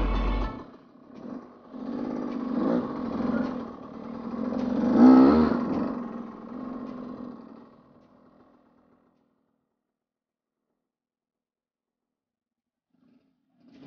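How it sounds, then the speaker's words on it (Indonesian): A supermoto motorcycle revs at a highway rest area, rising and falling engine blips that swell to a loud peak midway, then fade away into near silence as the bike moves off. "kita coba aja satu-satu motornya tahu"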